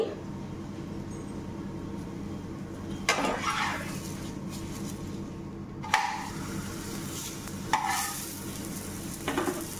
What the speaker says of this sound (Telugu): ఇప్పుడు ఈ పెన్నం మీద వేస్తున్నాను